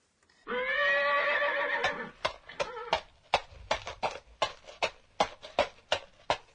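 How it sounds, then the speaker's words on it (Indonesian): A horse whinnies loudly for about a second and a half, then a steady series of crisp hoof clip-clops follows at an even walking pace, close and clear. "Itu adalah suara kuda berjalan."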